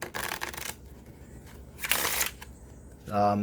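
Two quick riffles of stiff playing cards, crisp and close, followed by a brief voice at the end.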